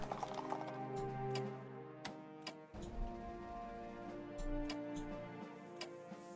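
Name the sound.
horses moving in the video game Strategic Command WW1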